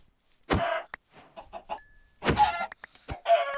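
Chickens in the Minecraft video game give several short, sharp clucks in separate bursts, close and clear, with quiet gaps between them.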